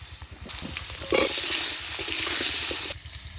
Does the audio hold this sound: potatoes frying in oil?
yes